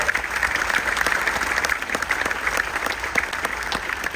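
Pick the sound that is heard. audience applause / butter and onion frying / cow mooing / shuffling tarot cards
audience applause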